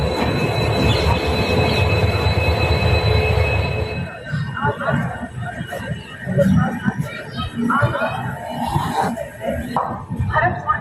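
The passenger Ajmer special, train 02924 from Agra Fort toward Jaipur, runs along the rails with loud rumbling and squealing wheels, then eases into quieter clattering with someone talking over it.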